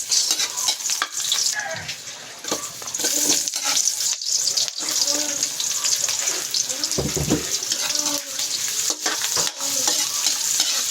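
Aromatics sizzle steadily in a hot pan for a Filipino soup, a dense crackling hiss with scattered utensil clatter and stirring scrapes throughout, close and fairly loud.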